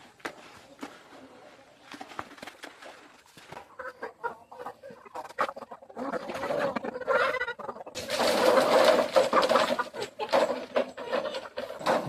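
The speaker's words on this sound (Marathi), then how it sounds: "भिजवलेले खाद्य कोंबड्या खूप चांगल्या पद्धतीने खातात" Country chickens peck at soaked feed, with soft clucks and coos at first, then busier, louder clucking and scratching toward the end.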